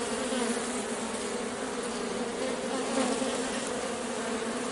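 Honeybees returning to a hive with pollen make a dense, steady buzzing drone that holds at an even level throughout, close and continuous, with no voices.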